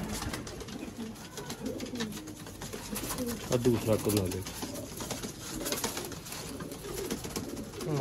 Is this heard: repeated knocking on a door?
no